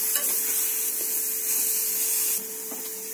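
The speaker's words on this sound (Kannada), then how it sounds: "ಕ್ಯಾರೆಟ್ ಅನ್ನು ಹಸಿಸ್ ಮೇಲೆ ಹೋಗೋ ಮಟ ಎಣ್ಣೆಯಲ್ಲಿ ಫ್ರೈ ಮಾಡಬೇಕು." Carrots frying in oil in a pan for carrot halwa, giving a steady, continuous hiss with a few faint scrapes of stirring, close by and without speech.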